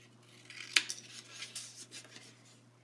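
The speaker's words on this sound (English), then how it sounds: "We have one more little banner that we're going to cut." Scissors snip through a thin strip of light blue dotted paper banner for a scrapbook page layout, giving a few crisp close cuts and light paper rustles in a quiet room.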